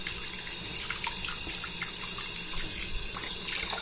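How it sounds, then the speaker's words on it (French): Cold tap water runs steadily into a sink while plastic model sprues are rinsed under it, a soft continuous splashing at close range with small clinks and no voices. "j'ai plus qu'à rincer"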